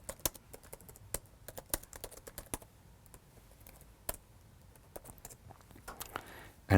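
Someone types code on a computer keyboard in irregular bursts of sharp, close key clicks, with short pauses between runs and a louder clack at the very end.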